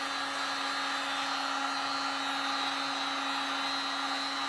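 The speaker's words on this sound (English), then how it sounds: "It's a cool way to wood burn with just a heat gun and some torch paste." Heat gun blowing hot air for wood burning on a wooden oar, a steady, loud whooshing roar with a constant whine and no talking.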